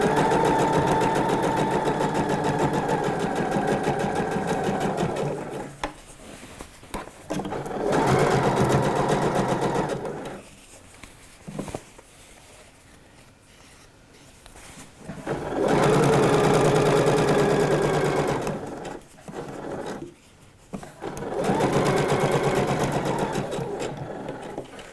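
A domestic sewing machine runs a gathering stitch along a trouser leg in repeated bursts of a few seconds each, steady motor whirr and needle chatter stopping and restarting between runs, close and loud with brief quiet gaps.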